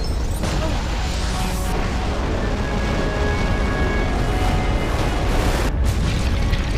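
A rocket blast booms in the LEGO Movie video game, a loud, dense rumble that fills the scene, with bursts of crashing debris near the start and end.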